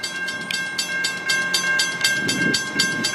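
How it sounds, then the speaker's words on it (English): A freight train hauled by an N-class locomotive rolls past at Ballarat, with steady rhythmic wheel clatter over rail joints, a constant high ringing tone from a crossing bell, and low rumble building toward the end, close and loud. "Looks like we've got a feline N-class pulling it."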